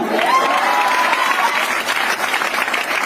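A meeting audience breaks into loud, dense applause, a continuous wash of many hands clapping with some crowd noise mixed in, filling the room at a steady level throughout.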